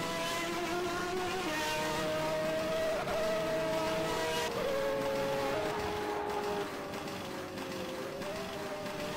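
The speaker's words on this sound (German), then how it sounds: "Jetzt wird der Jens, ja, den Gas geben." A race car engine drones in a sim racing game at Laguna Seca, holding a strong tone that climbs and shifts slightly as the car accelerates, heard alone for several seconds.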